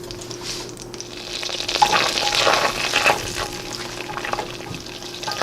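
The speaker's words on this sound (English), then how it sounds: "now that our butter is almost fully melted" Butter melts in a pan for keto caramel pecans, hissing and sizzling softly and steadily with a few faint pops, rising slightly midway, with no voices.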